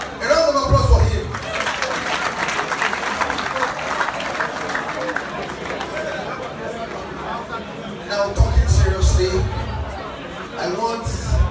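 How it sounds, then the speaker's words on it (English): Audience applause and crowd chatter fill a youth day gathering hosted by the Ooni, a steady hubby din of clapping and voices with louder bursts near the start and end. "A round of applause for him."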